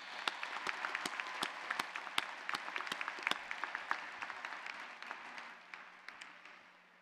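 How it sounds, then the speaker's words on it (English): Audience at a graduation commencement clapping in a round of applause, many hands giving dense, fairly faint claps that thin out and fade toward the end. "Please give me a round of applause for them."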